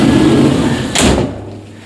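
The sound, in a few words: window being closed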